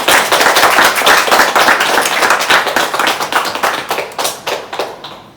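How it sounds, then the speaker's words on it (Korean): A church congregation in Bali claps steadily to welcome a missionary speaker at a revival service, loud, close rhythmic hand claps filling the room and thinning out toward the end. "우리가 축복의 박수를 하고 하면서 우리 성사님 맞이하면 좋을 것 같습니다."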